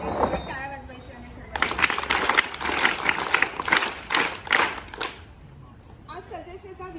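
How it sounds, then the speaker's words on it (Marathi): A crowd claps loudly at a birthday celebration held at an orphanage ashram, a burst of dense applause lasting a few seconds between stretches of talking. "या सर्वांसाठी एकदा जोरात टाळ्या वाजवायची आहे."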